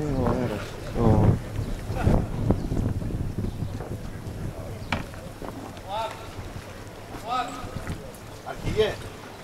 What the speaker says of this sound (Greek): Ο αέρας.